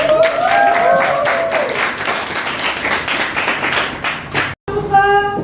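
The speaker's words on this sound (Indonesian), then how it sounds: "silakan kembali kita beri tepuk tangan." A classroom of students applauds together, a burst of dense clapping that thins out over several seconds before ending with a short pause and a brief tone.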